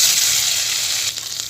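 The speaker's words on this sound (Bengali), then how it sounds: "আর দিয়ে দিলাম এখানে আদা আর রসুন বাটা, পেঁয়াজ বাটা, শস্য ভালো করে কষিয়ে নেব" Ginger, garlic and onion paste sizzles loudly as it is sautéed in a pan where fish was just fried for sorshe koi, a close, steady hiss with slight stirring texture near the end.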